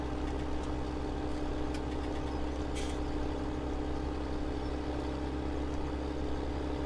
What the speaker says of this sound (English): going up the hill, how much of the horsepower it draws from it.